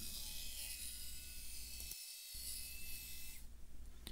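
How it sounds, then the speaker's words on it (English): A jigsaw cuts through 1/8-inch plywood with a steady, faint, raspy buzz that drops out completely for a moment partway through, then resumes and grows brighter toward the end. "And I use a jigsaw to cut it out."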